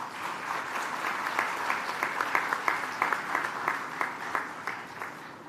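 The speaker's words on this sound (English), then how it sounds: "Welcome him with a round of applause." An audience welcomes the Education Minister of Australia with steady applause at Sri Venkateswara College, a dense, even clapping that runs throughout without talk.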